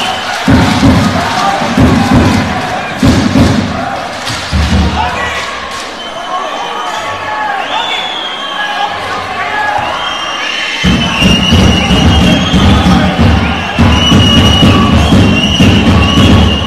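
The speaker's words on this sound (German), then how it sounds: "Applaus für uns bitte." Crowd at a playoff basketball game between ECE Bulls Kapfenberg and BK Klosterneuburg Dukes, loud cheering and shouting with rhythmic clapping and thuds that fades midway and swells again, with voices calling out throughout.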